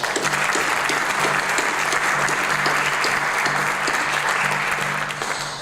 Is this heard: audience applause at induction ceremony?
yes